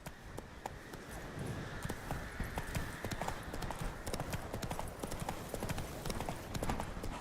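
Geralt's horse Roach plods along in an open-world fantasy game, hooves clopping in a steady, even rhythm throughout, moderately close over a constant outdoor ambient bed.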